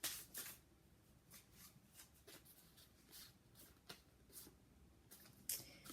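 Tarot cards being shuffled by hand, a run of soft, crisp riffles and slaps in irregular bursts, close up and quiet.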